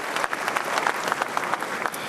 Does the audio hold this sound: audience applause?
yes